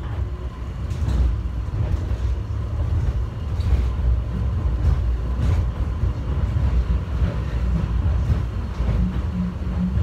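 Steady rumbling rail noise of a subway train running along tracks, with faint rhythmic clicks and a continuous low roar throughout.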